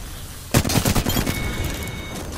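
Gunfire in the Apex Legends video game: a loud, close burst of rapid shots starts suddenly and rattles for about half a second before fading into a ringing tail.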